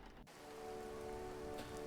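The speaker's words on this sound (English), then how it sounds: "The rain makes the work miserable." Steady rain falling in a dark horror-themed video game, a dense continuous patter that fills in after a brief quiet moment and holds even, close and moderately loud, with no voices.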